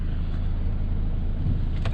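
A 2022 Toyota Hilux pickup truck driving on a freeway, a steady low engine and road drone that holds even throughout, with no talking.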